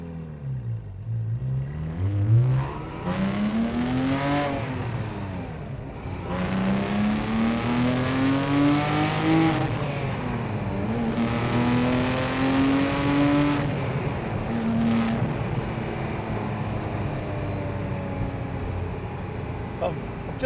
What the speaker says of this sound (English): as you can hear, the valves on the sports exhaust have opened up